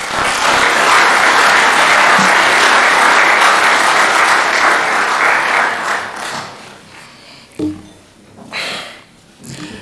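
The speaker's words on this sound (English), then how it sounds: "that was too soft. Can we have a very loud applause for Victor?" A large audience at the opening ceremony of the Africa Scout Conference bursts into loud, dense applause for about six seconds, then it dies away to a few scattered claps and some noise.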